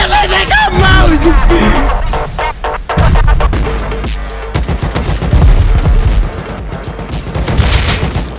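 Rust video game battle with a barrage of rocket launchers firing at once, dense overlapping booms and blasts rolling loudly for several seconds with faint voices mixed in.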